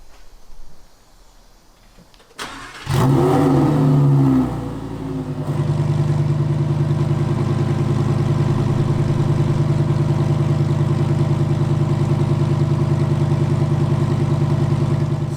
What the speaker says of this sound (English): this week's cold start, guys, is introduced by me this time, Lamborghini Huracan Evo